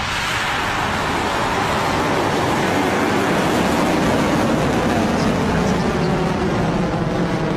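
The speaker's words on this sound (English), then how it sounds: "And we have liftoff." Rocket Lab rocket lifting off on the NROL-199 launch, a steady, loud, broadband roar that holds unbroken throughout with a low rumble underneath.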